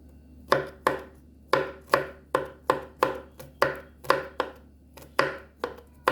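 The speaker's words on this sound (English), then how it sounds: "So I'm just cutting my garlic cloves into some bits, small pieces." A knife chops garlic cloves into small pieces on a cutting board, with about fifteen crisp, evenly paced knocks that sound close and clear against a quiet background.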